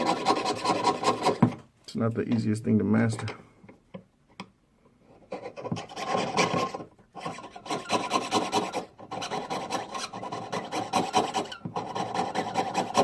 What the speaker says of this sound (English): Not every jeweler perfects this skill of sawing using the saw blade.